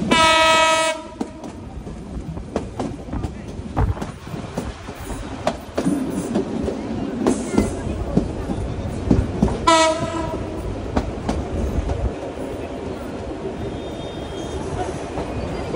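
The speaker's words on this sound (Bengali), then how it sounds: "আর আমাদের ট্রেন এসে পৌঁছালো হচ্ছে সোনাতলা স্টেশনে" Korotoa Express train arriving at Sonatala station in Bangladesh, with a loud horn blast at the start and another midway over rumbling, clattering wheels and squeals. Faint voices are heard under the noise.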